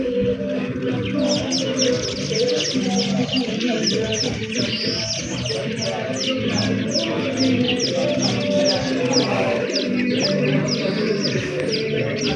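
Many birds call and chirp repeatedly in a dense chorus, with low cooing mixed in and a steady outdoor hum underneath, near Lake Tanganyika in Bujumbura, Burundi.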